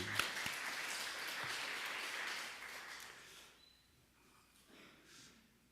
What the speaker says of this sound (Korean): 하나님께 영광의 박수 한번 돌려드리겠습니다.